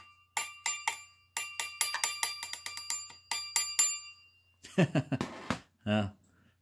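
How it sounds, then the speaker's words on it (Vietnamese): A Western Electric rotary dial telephone's bell rings in quick bursts of bright metallic clatter, close and clear, with short pauses between them, followed by a brief spoken voice. "Ở đây là cái chuông ha chuông reng reng reng reng reng rồi đó ha chuông nè"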